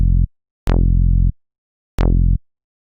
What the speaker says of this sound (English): I've made a bass in Operator, and it's just a little sawtooth with a filter on it